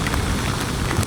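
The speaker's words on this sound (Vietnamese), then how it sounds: "Ôi, mưa trắng trời luôn." Heavy rain pours down during a motorbike ride, a dense steady hiss of drops lashing surfaces with broadband noise through the whole stretch and no voices.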